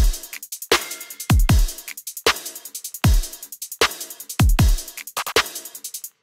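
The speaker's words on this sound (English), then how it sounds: "And then for the chorus section, I've added in a double time hi-hat." A produced drum pattern for a chorus section, with a fast double-time hi-hat ticking steadily over punchy kick drums and snare hits, loud and up front, with no voices.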